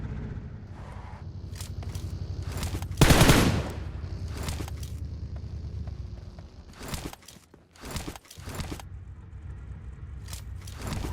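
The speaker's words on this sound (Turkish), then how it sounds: "Alan dışı tank tarıyor manyak." Rapid machine gun fire from a tank in a battle royale video game, with repeated bursts of gunfire and a loud blast near three seconds over constant game noise and footsteps.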